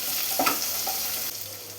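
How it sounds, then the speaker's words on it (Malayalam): Small sliced onions with curry leaves sauté in a hot pan, a brief continuous sizzle with a quick stir-scrape partway through; no voices. "ഇനി ഇതെല്ലാം കൂടി നന്നായി തന്നെ ഒന്ന് വഴറ്റിയെടുക്കാം."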